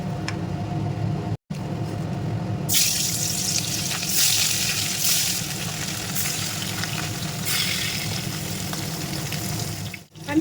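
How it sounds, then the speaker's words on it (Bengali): Catla fish pieces go into hot oil in a wok and set off a loud, sustained sizzling hiss that swells after a short quieter start and continues close up without speech. "এবার আস্তে আস্তে করে আমি এক এক করে মাছগুলি দিয়ে দেবো"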